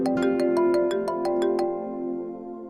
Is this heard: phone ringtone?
yes